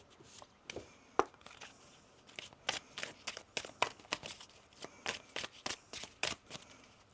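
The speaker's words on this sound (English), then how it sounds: "One more shuffle." A deck of oracle cards is shuffled by hand in quick, rhythmic bursts of crisp riffling and snapping, close and clear with no talking.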